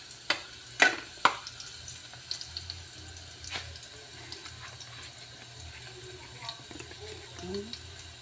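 Garlic frying in a pan and being stirred, a soft steady sizzle with a few sharp utensil knocks near the start and a voice talking faintly underneath.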